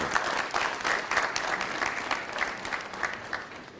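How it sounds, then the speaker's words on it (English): Audience applause at an outdoor street co-naming ceremony, steady dense clapping from a sizable crowd sustained throughout without a break. "Another round of applause"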